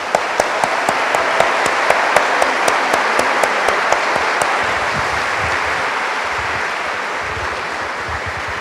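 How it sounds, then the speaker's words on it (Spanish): An audience applauds a panel of speakers at a literary event in Jericó, with a loud, sustained wash of clapping and a few sharp claps standing out near the start before it gradually thins. "Un aplauso"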